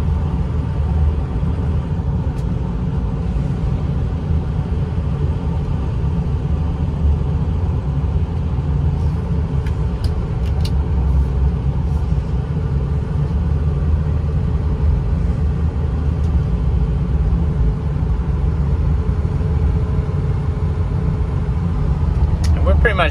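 A 2007 Ford F-250 4WD Lariat pickup with a 6.0L Powerstroke diesel cruising along a road, giving a steady low engine drone and tire rumble with no breaks, with faint ticks and rattles on top.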